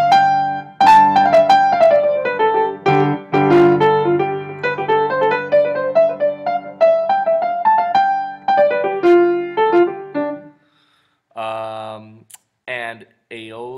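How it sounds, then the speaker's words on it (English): Melodic excerpt in the Mixolydian mode, a steady line of clear keyboard-like notes with chordal accents, then a pause and a few sparser notes near the end, played alone. "Mixolydian is one of the most common scales used in jazz, and it sounds like this."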